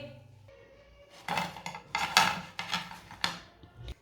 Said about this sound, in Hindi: इसे प्लेट में डाल लेंगे।